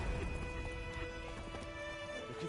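In The Witcher video game, a horse's hooves clip-clop faintly in a steady walking rhythm over a low, constant background hum, with no voices over them.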